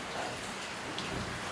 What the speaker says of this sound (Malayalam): ഇത്രയും മഴയത്ത് നനഞ്ഞു വരുന്നത് കണ്ടല്ലേ?